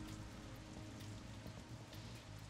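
Rain in the video game Metal Gear Solid 2 makes a steady, even hiss of falling drops that fills the background softly and continuously, with no voices over it.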